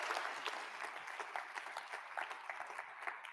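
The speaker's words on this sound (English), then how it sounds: "Round of applause, everybody." A keynote audience at a school leadership awards session gives a faint, distant round of applause, a soft wash of clapping with scattered distinct claps fading slightly toward the end.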